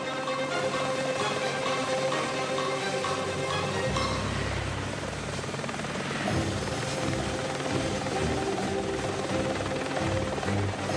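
Helicopter lifting off from a ship's deck, a loud continuous rotor and engine roar with a steady rumble that shifts in tone partway through, no voices.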